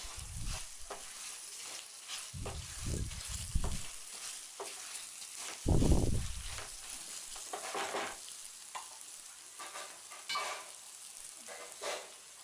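Tamarind rice being stirred in a pan after salt is added, the stove already off, giving scraping stir strokes in uneven bursts with a soft residual sizzle, fairly close and without speech.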